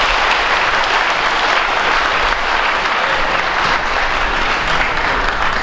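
Sustained, dense audience applause fills a crowded room at a company's 30th anniversary party, steady and loud throughout without a break.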